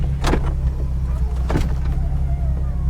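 The motorized convertible top of a 2006 Nissan 350z opens with a steady electric motor whine over a low engine idle, broken by two short mechanical clunks as the roof folds away.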